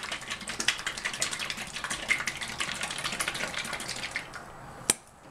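Container being shaken over a kitchen sink while making honeybee-themed items, giving a steady, fairly faint rattling patter that continues for several seconds before a single sharp knock near the end.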